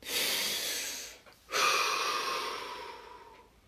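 A person takes a long deep breath in, pauses briefly, then lets out a slow, airy exhale that gradually tapers off, close to the microphone with no talking.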